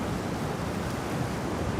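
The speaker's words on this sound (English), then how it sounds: "The wind" Strong wind gusts buffet a cliff diving site high above the Adriatic Sea in Puglia, Italy, a loud continuous roar of wind and surf rushing against the microphone with no break or voices.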